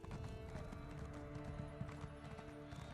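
A summoned horse gallops in Elder Scrolls Online, its rapid, steady hoofbeats close and continuous over a busy game soundtrack.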